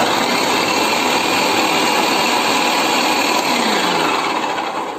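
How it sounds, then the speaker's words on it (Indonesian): An electric chopper whirs loudly and steadily as it coarsely grinds garlic and shallots, a continuous high motor drone with no voices. "Kita giling bawangnya dulu ya. Bawang putih, bawang merah. Kita haluskan dulu."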